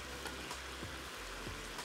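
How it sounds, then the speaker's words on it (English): Crispy beef tossed into a hot wok hisses and sizzles softly, a steady crackle of frying with light clatters as the pieces land and shift. "we're gonna add in our crispy beef, and you can hear how crispy it is"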